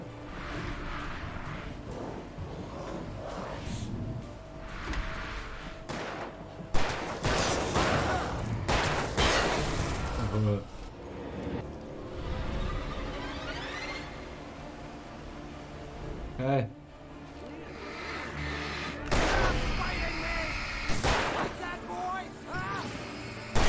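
Gunfire in the video game Alan Wake Remastered comes as repeated bursts of shots and loud blasts scattered through an intense action scene, with game sounds throughout.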